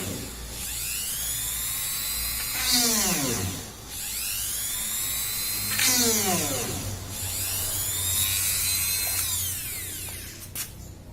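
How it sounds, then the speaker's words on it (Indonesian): A Kleiten mini die grinder with a drill bit bores into wood about 5 cm thick, its high whine bogging down in pitch under load and recovering in three repeated cycles, near and loud. "Kita akan coba pakai bor ini untuk melubangi kayu ini."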